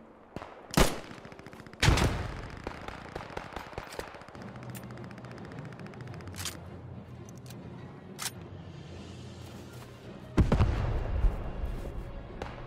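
Gunfire in the World War II shooter Squad 44 cracks out in several sharp, loud reports at irregular intervals, with lighter distant shots and a low rumbling battlefield bed between them.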